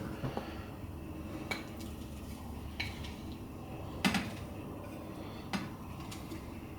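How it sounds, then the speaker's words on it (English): Chicken wings being set one by one into a metal air fryer basket, giving sparse light clinks and knocks at irregular intervals over a low kitchen hum, with no talk. "Place it nicely so that there'll be enough space for all the chicken wings here."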